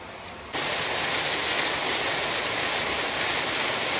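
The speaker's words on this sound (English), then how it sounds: "it'd be nice if I knew the name of this waterfall" Steady, loud broadband roar of a waterfall on Becky's Branch beside a hiking trail, starting abruptly after a short quieter moment and continuing unbroken, with no voices.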